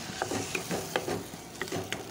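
Boiled bottle gourd and tomato stirred and frying in a wok, with scraping utensil strokes about every half second over a soft sizzle, close and moderately loud.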